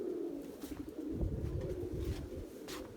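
Turtle doves coo in soft, low repeated phrases at a distance, faint and steady, with sparrows implied but not clearly standing out.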